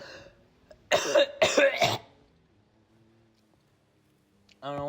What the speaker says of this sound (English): I'm just coughing my ass off today